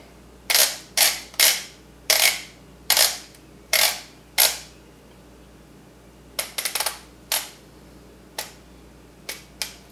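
Torque wrench tightening bolts on an Arctic Cat Wildcat Sport CVT: a series of sharp, close clicks, seven evenly spaced at first, then scattered pairs and single clicks after a pause.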